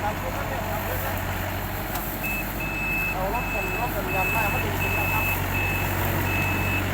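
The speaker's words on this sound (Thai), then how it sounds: "รถไถกำลังมาก็มี" A tractor approaches with a steady low engine rumble, and a repeating series of even reversing beeps starts partway through and carries on to the end.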